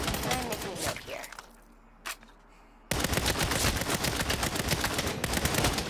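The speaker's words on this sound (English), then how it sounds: "We're just gonna keep shooting from right here." Rapid bursts of gunfire in the video game Saints Row, dense crackling volleys, a brief lull with a single shot, then sustained heavy shooting resuming loudly to the end.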